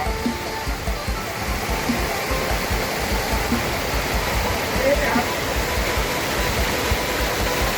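A waterfall at Nam Som district, Udon Thani, Thailand, in the cool season, roars as a steady, dense wash of rushing water close by, unbroken for the whole stretch.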